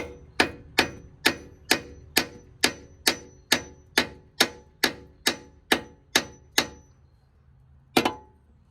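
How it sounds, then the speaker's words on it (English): A series of about thirteen sharp metallic hammer taps around a bolt to break it free, during a 1998 Civic transmission replacement, at a steady, quick rhythm, close and fairly loud, then a pause and one final tap. "you're just gonna tap like around the bolt with your hammer"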